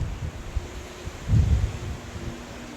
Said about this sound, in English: we got a west wind coming at us